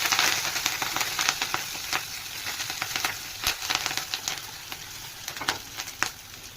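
Whole spices, shahjeera, cardamom and cloves, with ginger paste and curry leaves sizzle steadily in hot oil in a pan, a continuous crackling fry with scattered sharp pops, close and moderately loud, no voices.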